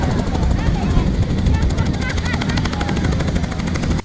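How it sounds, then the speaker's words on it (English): A helicopter from an aviation company in Kajjansi, its rotor beating in a fast, steady chop that stays loud and close throughout, with people talking beneath it. "Mu byoleseddwa mubaddemu ennyonyi y'ekika kya helicopter eyaleeteddwa aba aviation abasangibwa e Kajjansi."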